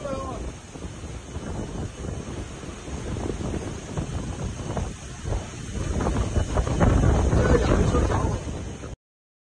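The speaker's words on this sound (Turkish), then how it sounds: "Hızı saatte 240 kilometreye ulaşan rüzgarlar nedeniyle ağaçlar devrildi, ev ve iş yerlerinin camları parçalandı." Super Typhoon Yagi's 240 km/h winds roar across southern China in a continuous, buffeting rush that batters the microphone, swelling louder toward the end.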